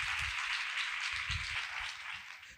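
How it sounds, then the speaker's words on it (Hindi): A church congregation bursts into steady, vigorous applause after a Hindi-Urdu sermon: a dense wash of many hands clapping together, sustained for a couple of seconds before thinning slightly at the end. "खुदा के जलाल के लिए जोरदार ताली।"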